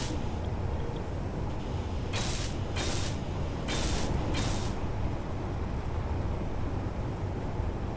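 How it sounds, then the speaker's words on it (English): Welding panels in Space Engineers: four short bursts of bright hissing, crackling weld noise over a steady low mechanical rumble of the game's ambience. "And we weld that up and see what that looks like."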